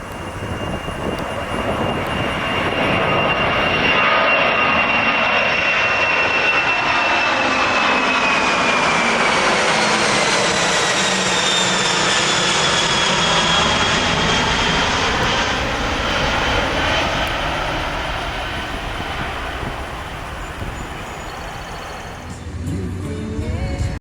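A loud helicopter roars overhead above a presidential motorcade, swelling to a peak and slowly fading, with a sweeping whine that shifts pitch as it passes.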